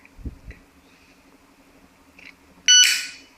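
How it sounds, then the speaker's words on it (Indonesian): A few soft handling knocks and taps on an anti-theft alarm padlock, then a sudden loud, shrill electronic beep that rings out briefly at the end. "sampai bunyi tut kayak gitu berarti"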